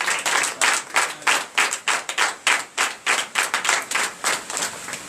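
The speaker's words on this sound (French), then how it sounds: "Donc je vous demande d'applaudir." A church congregation at morning prayer claps in rhythmic bursts, the sharp hand claps falling in a quick, uneven beat that comes through loud and close.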